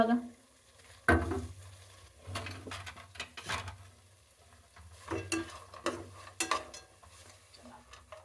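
Carrot and beetroot halwa with dry fruits fries in a pan with a soft sizzle, broken by intermittent scraping and stirring strokes and spoon knocks against the metal, close and without talk.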